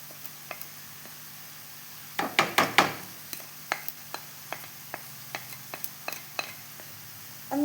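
Sesame seeds, cashews and raisins are stirred with flattened rice and banana in a pan, a quick burst of clattering scrapes and then steady spaced taps of the spoon over a faint sizzle.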